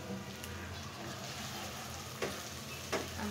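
Garlic frying in oil in a pan, a soft continuous sizzle and crackle with a couple of faint utensil taps near the end.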